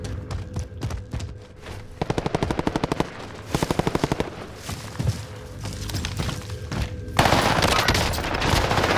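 Rapid automatic gunfire in a first-person shooter video game, several quick bursts of shots in a row over background game noise, followed by a louder, denser stretch of action.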